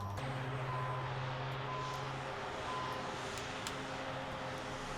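A Dash 8-100 turboprop takes off in a flight simulator, giving a steady, loud engine and propeller drone with a faint tonal whine that holds evenly throughout.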